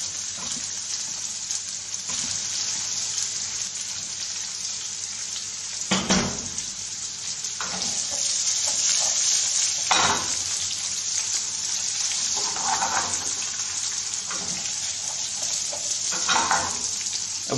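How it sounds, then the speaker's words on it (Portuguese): Boiled, peeled potato quarters fry in a pan with a steady loud sizzle, broken by several sharp scraping and clattering bursts as they are stirred. "agora vamos adicionar a batata"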